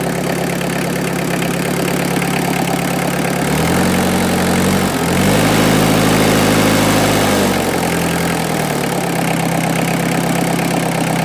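Holder AM2 prototype engine idling steadily with low, even throbbing, while the hood and grille rattle with vibration; the pitch dips and shifts briefly mid-way before settling back to a constant idle, no voices present.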